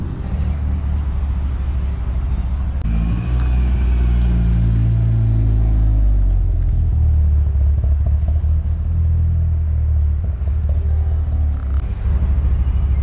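A track-prepped Mitsubishi Evo on new Nankang AR1 tyres drives along a road, giving a loud, steady low engine drone and road rumble from inside the cabin, with a brief swell partway through.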